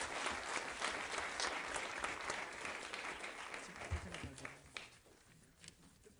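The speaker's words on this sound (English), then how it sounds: "would you give them a big round of applause?" An audience at a school board meeting applauds, with many hands clapping in a full, steady burst that gradually thins into a few scattered claps as it dies away.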